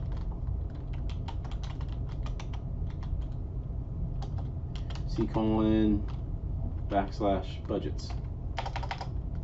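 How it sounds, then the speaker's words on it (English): Keys clatter in quick bursts as a cipher command is typed on a computer keyboard, close and crisp, with brief pauses between runs of keystrokes and a voice speaking over part of it. "next we're going to go ahead and type in cipher"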